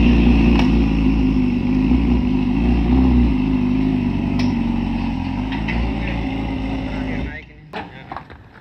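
A motorcycle engine idles and revs loudly up close as the bike is loaded onto a vehicle, with voices talking over it, then cuts out abruptly near the end, leaving quieter background noise.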